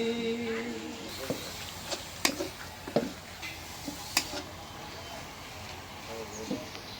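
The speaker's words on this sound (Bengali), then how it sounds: "একদম মশমশা করে ভাজা দিলাম" Food frying crisp in a pan for lentil dal in a kitchen, a low steady sizzle broken by sharp clicks and scrapes of stirring, with faint background sound.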